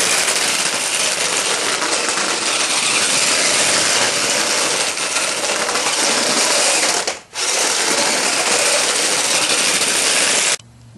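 Electric motor of a homebuilt RC rover running on a 3S LiPo battery, a steady high-pitched mechanical whine with gear chatter, loud and continuous, briefly cutting out once before resuming and then stopping abruptly.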